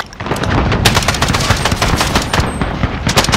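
Rapid automatic gunfire from a SIG Sauer MCX Rattler in the video game Modern Warfare, a loud, close, continuous rattling burst lasting the whole moment, no voices.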